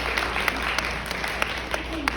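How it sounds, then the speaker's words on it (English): Audience applause at a self-care talk for early childhood educators, a steady wash of many hands clapping with a few sharper claps standing out, moderately loud and continuous throughout. "I want to just give you a round of applause for choosing you this morning."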